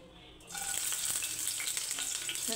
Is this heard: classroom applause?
no